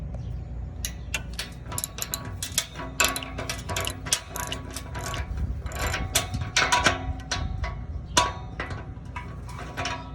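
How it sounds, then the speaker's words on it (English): Ratchet with a 15 mm deep well socket clicking rapidly while loosening muffler bolts under a 2021 Ford Bronco, bursts of close, dense ratcheting over a low background rumble, no talking. "I'm going to go ahead and remove this with a 15 millimeter deep well socket"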